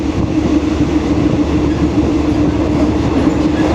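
A train runs along Bangkok's elevated Red Line track, giving a loud, steady rumble of wheels and carriages with faint rail clatter, continuous and close, with no voices.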